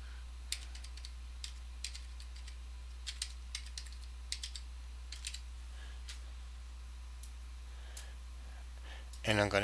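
Quick bursts of computer keyboard typing while a passphrase is entered, irregular clusters of key clicks spread across the clip at moderate level, with a brief louder sound at the very end.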